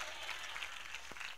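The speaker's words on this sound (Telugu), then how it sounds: "ఒకసారి గట్టిగా యేసయ్యకి చప్పట్లు కొట్టి దేవుని స్తుతిద్దాం." Congregation clapping in praise of Jesus at a live Telugu Christian worship service, a faint, steady patter of many hands that sounds somewhat distant.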